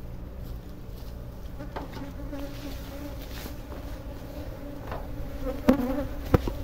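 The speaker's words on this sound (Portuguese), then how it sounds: "Esse é o nosso enxame do resgate," A swarm of honeybees from a rescued colony buzzes steadily around a hive with added honey supers, a dense continuous drone with a few louder bees passing close near the end.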